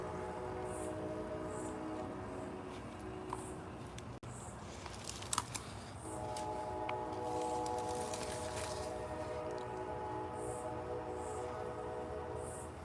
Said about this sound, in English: I love the train.